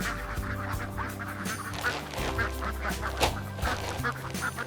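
A flock of egg-laying ducks quacks steadily while being herded at dinner time, a dense overlapping chorus of calls with steady low-pitched background noise.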